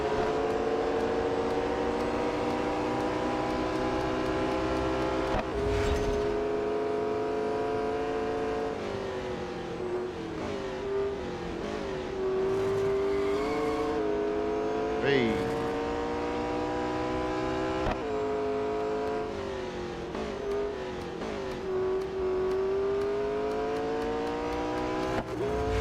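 McLaren 600LT racing around Mount Panorama in Real Racing 3 keeps up a loud engine note that climbs and drops through repeated gear changes, with brief bursts of other cars and scraping noises.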